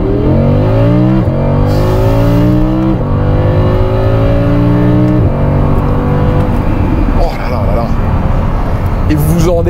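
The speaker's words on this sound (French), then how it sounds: "Une autre accélération, ça fera 3." An Audi R8 Spyder Performance, a convertible capable of 329 km/h, accelerates hard with loud, close engine revs rising through repeated upshifts, each gear climbing before a brief drop, then a rougher roar toward the end.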